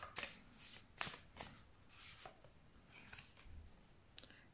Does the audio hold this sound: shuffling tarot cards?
yes